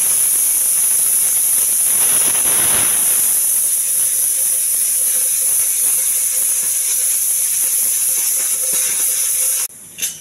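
A pressure cooker cooking millets with moong dal lets out a loud, continuous steam whistle that hisses steadily for about ten seconds, then cuts off abruptly near the end.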